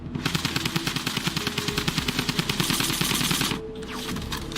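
Rapid automatic gunfire in the Fortnite video game, a long sustained burst of evenly spaced loud shots that stops abruptly near the end, no speech.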